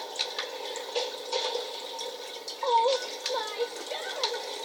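Water lapping and trickling at a riverside in the video game GTA 5, a soft continuous splashing with a few small bursts, under quiet talk.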